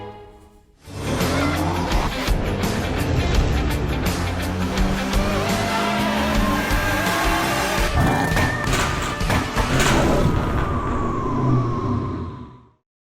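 Ferrari F430 V8 sports car running hard, with loud, continuous engine howl, revs rising and falling between shifts, and sharp transient bursts throughout.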